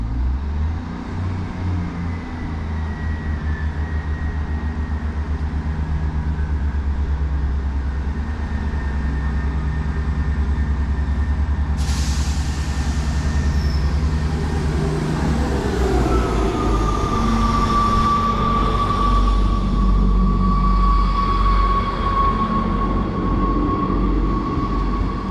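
An East Midlands Railway 158 diesel train pulls away from a platform, its engine rumbling steadily with a rising whine and a high tone as it departs.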